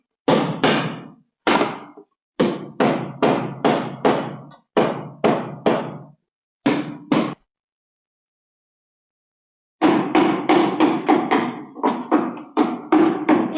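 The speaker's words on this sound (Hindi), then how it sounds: "बस शुरू हो गई तुम्हारी खटखट" Rapid wooden knocking from building a toy rickshaw comes in bursts of sharp, close taps, several to a burst, then a pause of a few seconds before a longer, denser run of knocks.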